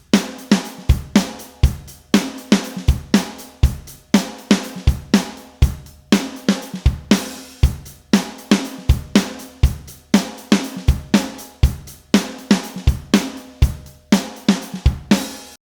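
A drum groove of snare, hi-hat and kick played from MIDI tracks repeats in a steady, tight rhythm, each hit sharp and close with quick decay, alone without any voices.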